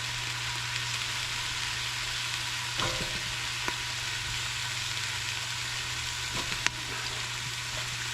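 Chopped onion fries in oil in a soup pot, a constant crackling sizzle with a few sharp clicks and taps of a utensil against the pot, no talk.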